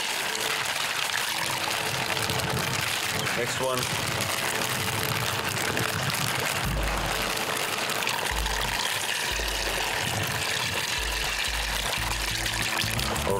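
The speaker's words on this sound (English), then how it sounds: "pour the tiger nuts into your bucket of water" Dry tiger nuts tip into a bucket of dam water at a carp fishing spot, making a continuous pouring rush and splash with low engine-like rumble behind it. Someone speaks briefly.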